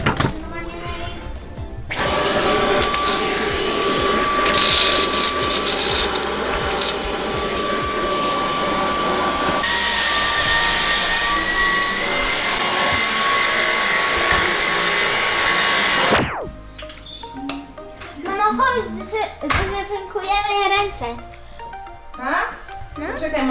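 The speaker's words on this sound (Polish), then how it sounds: "Idę jeszcze po ten, po odkurzacz, to mu tam posprzątałem w klatce" A vacuum cleaner runs loudly and steadily close by while cleaning out a pet's cage, a sustained whining roar for about fifteen seconds before it switches off, followed by people talking.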